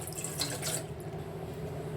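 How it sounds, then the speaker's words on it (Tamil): Half a glass of water is poured into a cooking pot, a faint, soft trickle and splash set against a quiet kitchen hum. "இது அரை கிளாஸ் நம்ம தண்ணி ஊற்றிக்கலாம்"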